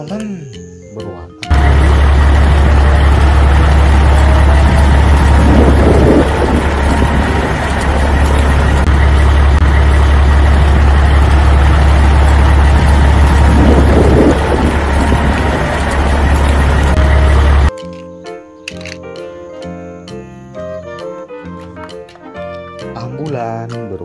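A cement mixer truck engine rumbles loudly and evenly for about sixteen seconds, swelling slightly twice, before stopping abruptly as light music follows.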